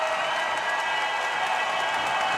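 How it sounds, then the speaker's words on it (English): NC State Wolfpack college wrestling crowd cheers and applauds loudly for a wrestler, a dense continuous roar of clapping and shouting that fills the arena for the whole moment. "Wolfpack crowd on its feet for Daniel Bullard"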